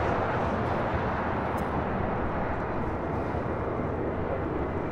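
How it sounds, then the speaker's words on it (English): A Boeing 787-8 Dreamliner at LAX pushing back from the gate, heard as a steady, loud, broadband jet engine roar at a moderate distance, with no speech. "American Airlines Flight 27, that flight will be heading to Tokyo Haneda, now pushing back a 787-8 Dreamliner"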